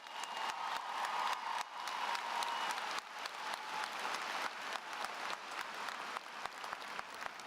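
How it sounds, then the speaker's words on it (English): Graduation audience applauding a student speaker at the Cypress Woods High School Class of 2018 ceremony, a full, sustained wash of clapping with sharper individual claps standing out near the end. "One more round of applause for Hannah"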